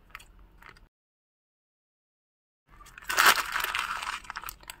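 A black plastic AliExpress parcel bag is torn open with a burst of crinkling and rustling after a brief silence, the plastic noise fairly close and fairly loud with no talk over it.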